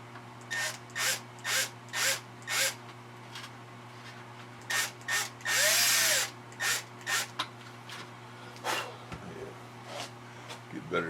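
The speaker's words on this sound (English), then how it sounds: "I've got my drill motor set up with number 40 drill bit." Drill motor with a number 40 bit working on a Piper Super Cub wing false spar patch, short repeated bursts of whirring and grinding close by, separated by pauses with a faint steady hum underneath.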